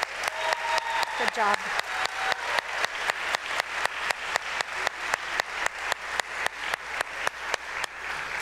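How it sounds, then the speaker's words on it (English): Clapping at a high school spring choir concert from Springdale High School, a steady rhythmic run of claps that sounds like a smaller group clapping in unison rather than a full crowd, with a brief spoken voice early on. "an applause for Thomas"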